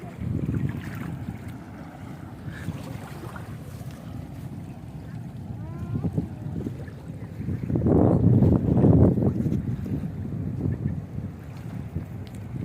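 A petrol speed boat drones steadily on the Padma River, its engine swelling louder midway through, with wind buffeting the microphone throughout.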